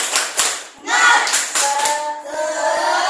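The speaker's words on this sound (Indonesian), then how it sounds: "sekali lagi tepuk semangatnya ya. Tepuk semangat." A school class performs a rhythmic spirit clap, sharp hand claps in short patterned bursts with pauses, close and loud, with children's voices chanting along in between.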